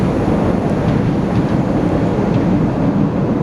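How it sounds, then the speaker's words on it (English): A train passes close by with a loud, steady, low rumble and roar, dense and unbroken, as if heard from a building near the tracks. "That's a train."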